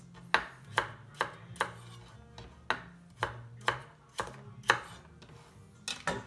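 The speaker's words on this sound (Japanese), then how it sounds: "全部切ります。" A kitchen knife chops food on a cutting board while Japanese dishes are prepared: a steady run of about a dozen crisp, fairly quiet chops over a low background hum, with no one speaking.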